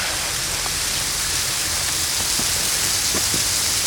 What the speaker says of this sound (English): get on this waterfall a little bit. It's actually flowing really good today.